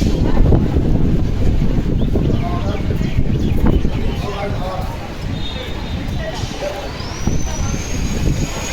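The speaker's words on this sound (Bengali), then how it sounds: "প্রচুর হাওয়া চালাচ্ছে বন্ধুরা।" Strong wind blows outdoors at the gate of the Bipattarini Chandibari temple in Puri, a steady, loud broadband rush and rumble buffeting the microphone throughout, with faint surrounding activity underneath.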